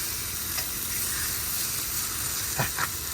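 Pounded meat sizzles on a Blackstone griddle in a steady, bright frying hiss, close and even throughout, with a couple of soft pops near the end.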